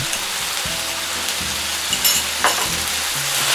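Beef stir-fried in sauce on a very hot plate gives a loud, steady close sizzle, with occasional scraping and stirring knocks as the pieces are moved around.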